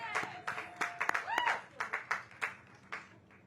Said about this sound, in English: Can we give a round of applause that DC is open?